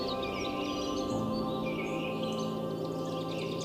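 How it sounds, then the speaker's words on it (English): Birds calling from the trees in Goa, a soft steady mix of chirps and song spread through the woodland, fairly distant and continuous under a constant background hum, with no voices. "listening intently for the direction of the calls."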